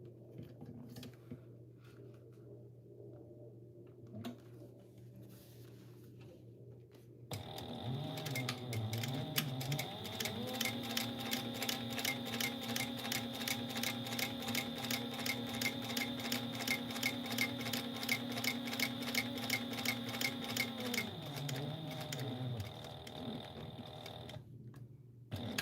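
A sewing machine top stitches a seam at 1/8 inch, starting after a quiet stretch and running steadily for about fifteen seconds with a fast, even ticking stitch rhythm before winding down.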